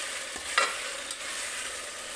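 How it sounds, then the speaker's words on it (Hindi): Chicken with large-cut green chillies and ginger-garlic paste being stirred and fried in a pan, a steady close sizzle broken by a few scraping stirs, with no talk. "इसको अच्छे से चलाते हुए भूंज लेंगे।"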